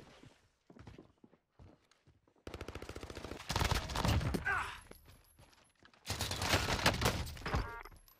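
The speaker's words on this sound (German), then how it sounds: "Werde beschossen." Gunfire in the video game Call of Duty Warzone, with rapid automatic bursts and single shots coming in loud volleys, interrupted by quieter gaps with faint movement sounds.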